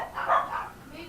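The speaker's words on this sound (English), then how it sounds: "Barking." A dog gives a short, mid-pitched bark-like yelp, rising and fading within about a second, fairly close and with no other sounds around it.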